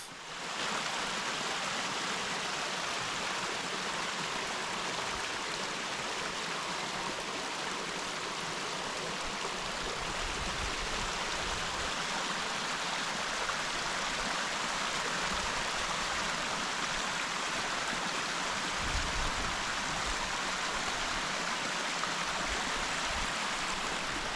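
A brook flows steadily through Ashendean Clough near Pendle Hill, a constant soft rush of moving water at moderate distance with no other sounds over it.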